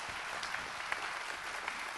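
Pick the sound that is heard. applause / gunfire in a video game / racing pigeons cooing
applause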